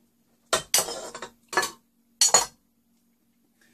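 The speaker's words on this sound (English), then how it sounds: "add the 3 eggs" Three eggs cracked into a bowl of whole wheat pasta: four sharp clinks and taps of shell against the bowl rim in quick, separate bursts, close and clear with silence between.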